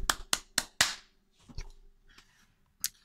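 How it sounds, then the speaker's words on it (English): A handful of sharp, close claps honoring a guest on a live stream: four quick claps, then a few sparse, fainter ones with quiet gaps between. "Many rounds of applause for Tony."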